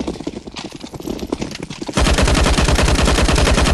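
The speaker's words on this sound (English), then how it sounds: "Over defend on the marker and keep shooting the zombies." Gunfire in a CS:GO zombie escape map, with a quick rattle of shots that gives way to continuous loud automatic fire, dense and steady to the end.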